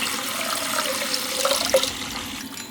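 Tap water runs steadily into a sink while a pet snail is bathed under the stream, giving an even splashing flow with small gurgles.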